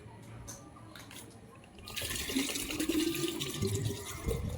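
Water pours into a flower vase, a soft trickle that swells into a steady, fuller splashing stream partway through, close and fairly quiet.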